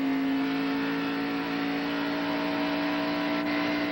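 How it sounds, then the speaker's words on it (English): A 1991 NASCAR Winston Cup stock car engine held on throttle during the Budweiser 500, a steady loud drone with a strong harmonic hum that stays level throughout, no voices. "Listen to him get on the throttle here."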